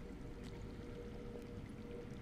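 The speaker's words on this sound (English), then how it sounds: "I hear water. From underground." A continuous underground water flow in a Game of Thrones video game, a steady low rushing and pouring wash that fills the whole stretch at an even level with no voices over it.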